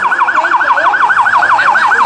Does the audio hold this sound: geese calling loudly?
no